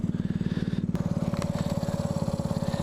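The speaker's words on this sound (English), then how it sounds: "It's revving a little fast because I have the choke open" A motorcycle engine idles fast and steady with the choke open, a rapid, even putter, close up, a faint whine joining partway through.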